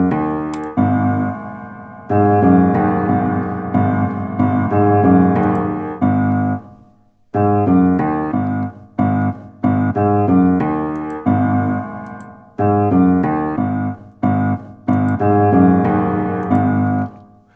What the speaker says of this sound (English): set the A channel to a shorter dampened sound and the B to a long reverb with a little damping and more volume,